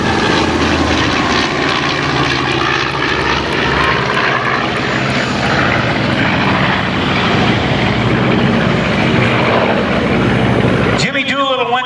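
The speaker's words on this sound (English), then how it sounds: "the aircraft they used is now approaching from the right" A B-25 Mitchell bomber flown by the Commemorative Air Force's Missouri wing passes at an air show, its loud sustained piston-propeller drone filling the scene before cutting off abruptly near the end, with an announcer talking over it.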